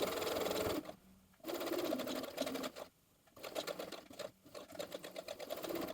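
A domestic sewing machine runs in close bursts while top-stitching the facing of a bomber jacket, a rapid whirring chatter that stops and restarts with several short pauses between runs.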